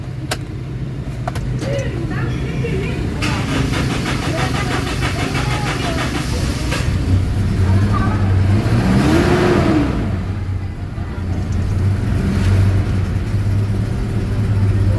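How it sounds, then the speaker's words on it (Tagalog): A Toyota Innova diesel with common rail system, being repaired for a cranking-but-no-start fault with code P0351, cranks, starts and revs, its engine whirring and rising in pitch under nearby speech. "i-start natin yung makina"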